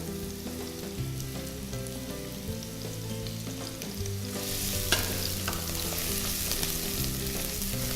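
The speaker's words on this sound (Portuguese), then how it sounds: "o azeite já deu uma aquecida, eu já vou vir com a cebola e o alho." Onion and garlic fry in hot olive oil for a filet mignon and shiitake risotto, a dense continuous sizzle that swells louder partway through, with music playing over it.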